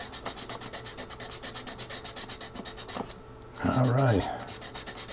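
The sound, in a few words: sanding to roughen a model rocket's surface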